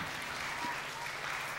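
Faint clapping from a preschool group, a brief soft patter of hands at low level, with a light hint of voices in the background.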